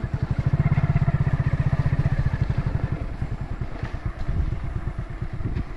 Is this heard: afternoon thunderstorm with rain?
no